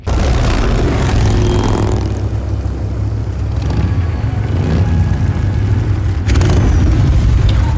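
Loud, steady engine roar of an aircraft in Gears of War 4, a droning propeller-like rumble with brief booming swells, heard close and continuous without speech.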